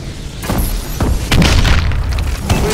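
Friendly missile strikes landing in a video game: a series of deep, loud booms and explosions arriving one after another, some with shattering debris.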